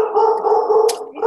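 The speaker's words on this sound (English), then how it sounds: "My dog will start howling in a minute." A dog howling in a long, loud, sustained wavering tone close to the microphone, with a brief sharper yip near the end.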